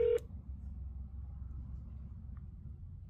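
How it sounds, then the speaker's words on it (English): A phone places a call: one short, bright dialing tone sounds at the very start, then gives way to a steady low rumble with no talk. "Let's call one more time."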